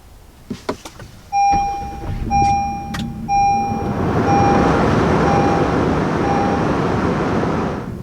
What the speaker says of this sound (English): once the Odyssey fires up